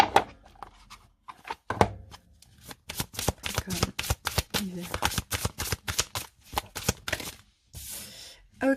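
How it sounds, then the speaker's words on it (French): A deck of oracle cards is shuffled by hand nearby, giving a rapid series of crisp riffling slaps and soft thumps in an uneven rhythm. "On va prendre une carte conseil avec l'oracle Cécioli."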